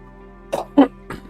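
Three short coughs close to the microphone, the middle one loudest, over a faint steady electronic hum.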